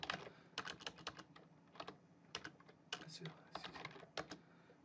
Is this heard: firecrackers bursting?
no